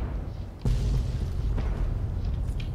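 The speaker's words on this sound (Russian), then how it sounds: "Все взрывается" A blast in the video game Fallout 3 hits suddenly with a loud boom, followed by a sustained low rumble under game ambience.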